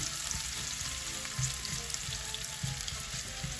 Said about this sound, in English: My onions have been frying for a few minutes.